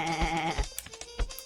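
A sheep bleats in the video game Sheep, Dog n' Wolf, a single close, wavering bleat followed by a few soft game thumps and clicks.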